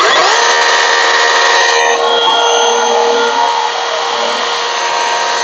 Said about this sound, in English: I'm going to take this chainsaw, and if you never thought that you'd see somebody chainsawing okra, today's your day.